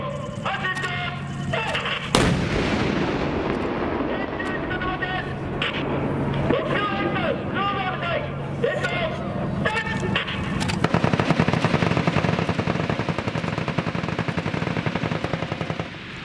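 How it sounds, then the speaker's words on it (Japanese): A loud, heavy tank gun blast rings out, followed by bursts of rapid machine-gun fire, while a voice speaks over a public address system at a night live-fire exercise near Mount Fuji, Japan. "アルファの戦車鉄砲"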